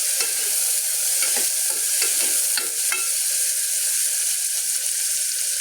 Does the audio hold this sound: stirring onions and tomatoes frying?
yes